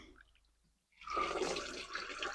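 Dissolved fertilizer solution is poured onto a rambutan plant, a steady close rush of liquid starting abruptly after a brief quiet moment and continuing at even strength.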